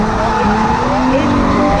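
Ford AU Falcon clutch-kicked into a drift on a private road, tires squealing loudly and continuously over a straining engine, with voices underneath.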